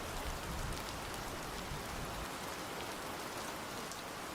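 Steady rain falling on a surface, a dense continuous hiss that stays even and close throughout, with no talking.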